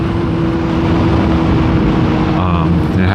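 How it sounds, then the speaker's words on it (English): A motorcycle with a brand-new chain rides along a road, its engine giving a loud, steady drone mixed with wind rush, and its pitch shifts slightly near the end. "This is the first time I've taken this bike out onto the road"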